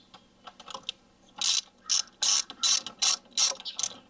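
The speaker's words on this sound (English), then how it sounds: "you need to tighten this right here." A ratchet tightening a hose clamp on the engine air filter box of a 2007 Toyota Highlander Hybrid, several quick clicking bursts in an even rhythm, close and crisp, with no talk.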